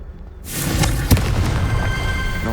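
Confringo fire spell exploding in Hogwarts Legacy: a sudden loud whooshing blast kicks in after a quiet moment, followed by a sharp crack and a sustained fiery roar that slowly fades, with no one speaking.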